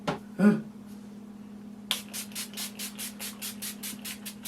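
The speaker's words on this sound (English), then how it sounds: "if I just get some setting spray on top of it, melt it all together" Short rhythmic hissy bursts from a makeup setting spray bottle, about ten quick pumps in a row, close by after a couple of faint earlier sounds.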